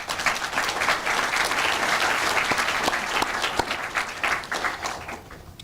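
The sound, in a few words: audience applause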